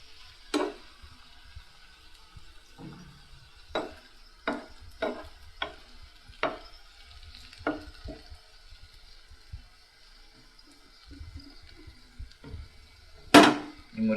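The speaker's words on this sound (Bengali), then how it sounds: "এই মরিচগুলো আমরা ফ্রাই করে নিচ্ছি সাইড দিকে।" Chillies frying in oil in a pan, a faint continuous sizzle broken by a series of sharp scraping taps and clinks as they are stirred, with no voices.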